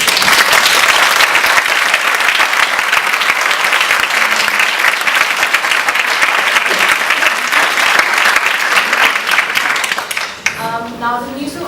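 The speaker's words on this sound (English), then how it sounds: "Can I please have a round of applause?" Loud, sustained audience applause at an award ceremony for honorary fellowships, dense clapping from a large crowd lasting several seconds before tapering off as a voice begins.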